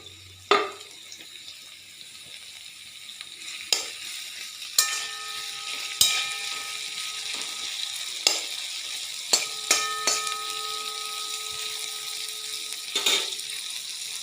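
Sliced onions fry in hot oil in a pan for a spicy fish curry, giving a soft, steady sizzle broken by occasional sharp clinks and scrapes of a stirring utensil close by.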